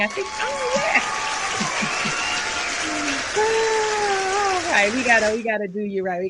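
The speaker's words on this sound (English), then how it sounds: "I think I hear applause. I think they're cheering." Steady applause with crowd noise plays as a sound effect on a radio talk show. It stays loud and continuous under overlapping voices and cuts off near the end as the talk continues.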